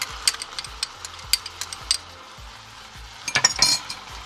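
Veal with onions and garlic braising in a pot: a soft, steady sizzle under intermittent spoon scrapes and clinks against the pot, with a faint low rhythmic hum in the background.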